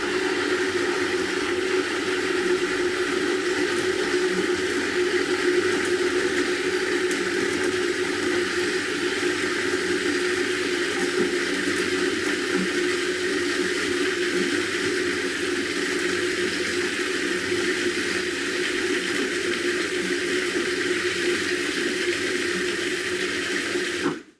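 A Robot Coupe food processor grinding peanuts into peanut butter, a loud, steady motor whir with a constant grinding hum for about twenty-four seconds before cutting off abruptly at the end, no talk.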